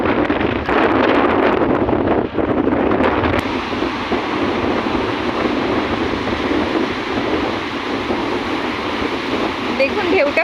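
Strong sea wind at Digha beach in West Bengal roars and buffets the microphone without pause, a loud, dense rush that dips briefly and then blows on steadily.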